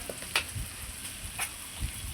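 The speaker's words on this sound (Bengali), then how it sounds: "দেখুন আমার পোস্তটাও ভাজা হয়ে যাচ্ছে কত সুন্দর ঝিঙ্গার সঙ্গে।" Poppy seed paste and ridge gourd fry in a pan with a soft, low sizzle, broken by a few brief scraping stirs at close range, and no one talks.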